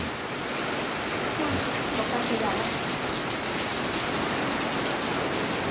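Steady rain falls in a dense, even hiss, loud and close and unbroken for the whole stretch, with no clear voices.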